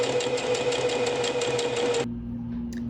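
A sewing machine stitches a dress bodice, running loud and steady with a fast rhythmic whir for about two seconds, then stopping abruptly and leaving a quiet room.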